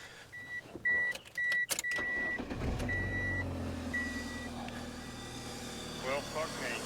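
A repaired 1998 Mercury Tracer engine idles steadily after chiming warning beeps and a few clunks, the low running hum continuing evenly to the end.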